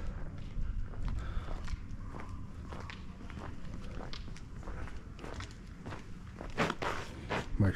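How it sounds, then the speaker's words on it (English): Shoes walking in a steady rhythm of close footsteps on a quiet winter street in Ayia Napa, each step distinct over a low background rumble. "My shoes make some noise"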